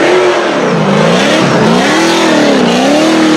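A 1000HP car engine revs loudly through a screamer pipe exhaust pointed at the ground, its pitch rising and falling in repeated smooth waves of throttle, close and overpowering.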